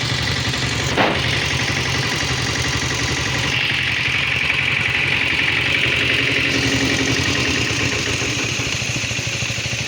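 KTM Enduro international-spec motorcycle engine idling nearby, a steady mid-pitched rumble with a brief clank near the start, continuous and loud with no talk.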